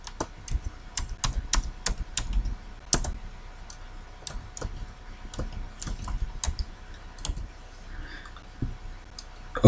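Name being typed on a computer keyboard, a quick run of close, crisp key clicks in uneven bursts with short pauses, alone with no talking.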